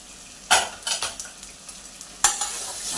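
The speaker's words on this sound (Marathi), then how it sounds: "आता चांगला मसाला परतून घ्यायचा कांदा आणि मसाले एकत्र चांगले परतायचे" Onion and spices are stirred in a hot pan for a methi corn pulao, giving a few sharp spoon scrapes and clinks against the metal over a soft background sizzle, close and without talk.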